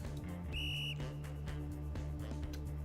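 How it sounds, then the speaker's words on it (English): A coach blows a short, sharp whistle blast in a video game gym scene, a single piercing tone lasting under half a second over steady rhythmic background music. "With a violently loud blow of his whistle, the coach also takes his positions"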